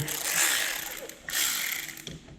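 An 8mm ratchet clicks as it loosens plastic wheel liner fasteners on a Dodge Charger Daytona, giving two bursts of close, crisp ratcheting with a brief pause between them.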